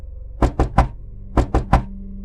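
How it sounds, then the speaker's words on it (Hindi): Someone knocks on a door in two clear sets of three firm, evenly spaced knocks, close and loud against a quiet background. "मैंने एक बार और आवाज के साथ दरवाजा खटखटाया।"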